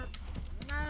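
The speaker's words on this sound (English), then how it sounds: "We're going to need to go talk to our cows." Cows mooing in the Minecraft video game, a couple of short low game-sound moos at modest level over faint background noise, with soft keyboard-like clicks.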